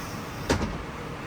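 A Thomas school bus door swings shut with a single short thud and brief rattle over steady background hum.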